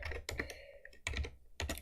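Typing on a computer keyboard: a few quick clusters of close, crisp key clicks separated by short pauses, faint and alone.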